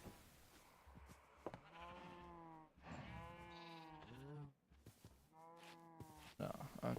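Cows in a modded Minecraft game give a few bleating, mooing calls in short bursts, some spaced apart and some back to back, faint and fairly close with no speech.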